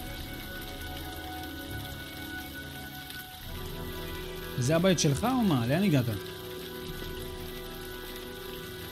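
Steady rain falls in the video game Heavy Rain on PS5, a continuous hiss with a low hum underneath, while someone speaks briefly over it partway through.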